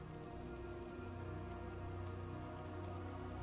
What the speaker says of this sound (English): Okay, no, heavy rain is heavy rain.